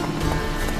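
A horse gallops in The Witcher 3: Wild Hunt, a brief burst of rapid hoofbeats close and loud over wind noise.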